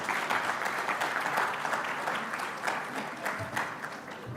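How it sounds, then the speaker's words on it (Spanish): An audience claps steadily to welcome the sponsor, the manager from the industrial security firm Multisistemas, at a corporate event. The dense applause stays loud and continuous throughout and carries no speech. "Y le damos un fuerte aplauso para recibirlo."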